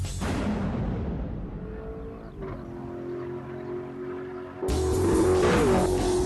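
An Alfa Romeo 8C supercar engine drones with a steady harmonic hum, easing off before surging louder again near the end, like a revving exhaust close by.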